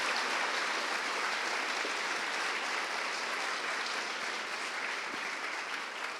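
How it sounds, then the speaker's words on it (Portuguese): A church congregation applauds steadily and densely for the whole stretch, a full, even wash of many hands clapping without a break. "Aplaude o Senhor de coração."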